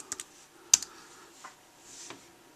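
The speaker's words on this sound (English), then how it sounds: "we'll go ahead and type in" Typing on the keyboard of a Microsoft Surface tablet, with a few sparse, quiet key clicks and one sharper tap spread over a couple of seconds in an otherwise quiet room.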